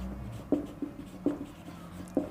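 Pen strokes scratching across paper while a math solution is written out, a few short scribbling bursts spaced apart, close and quiet with no talking.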